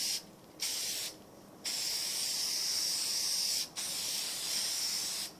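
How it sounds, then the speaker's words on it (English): An aerosol can sprays a protective coating onto costume jewelry in several close hissing bursts: two short ones, then a long sustained spray, a brief pause, and another long spray. "I like to make sure that I give it a really good spray."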